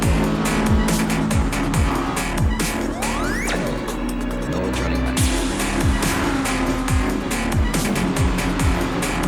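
A race car in a racing video game on the Le Sarthe circuit, its engine loud and continuous as it revs up through repeated gear shifts, with brief tire squeal.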